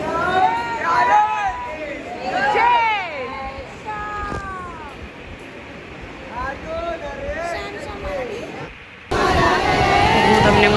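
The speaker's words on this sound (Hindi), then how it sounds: "कितनी भीड़ है वहाँ पर मंदिर में" Crowd at the Khatu Shyam temple on a hot day: a steady babble of many voices with scattered calls and chatter close by, growing louder and denser near the end.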